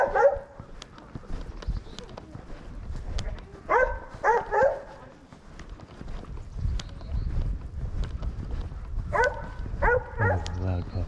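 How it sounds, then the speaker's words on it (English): A puppy barks loudly on a springtime hiking trail, short sharp yips in bursts with gaps between, close by, while people talk and footsteps scuff nearby. "Loud puppy."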